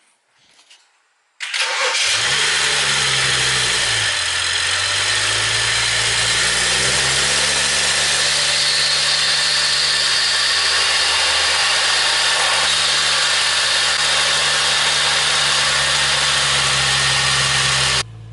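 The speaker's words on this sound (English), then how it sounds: "let's turn the car on" A BMW E92 engine cranks and fires up loudly, settling into a steady, close-up idle that runs on without a break, with no talking over it.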